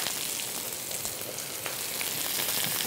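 Roughly cut onion, vegetables, celery and paste fry in a hot pan, giving a dense, even sizzle that crackles close and steady throughout with no talking.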